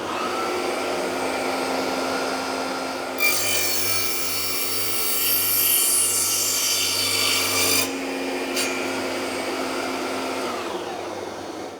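Wood pieces are cut to 45 cm length with a power saw, a loud close whining cut lasting several seconds over a steady machine hum, followed by a shorter second pass.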